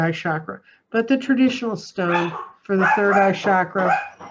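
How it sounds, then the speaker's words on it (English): A dog barks inside a house, mixed in beneath a woman's steady, close talking and hard to separate from her voice. "sorry about the dog"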